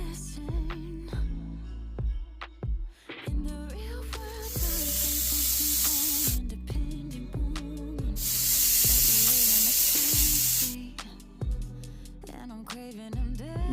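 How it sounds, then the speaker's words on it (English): Chuck eye steaks laid into a hot grill pan, sizzling and hissing loudly in two bursts, with clinks of tools and faint kitchen sounds between them. "So, pan is hot. We're gonna add our steaks."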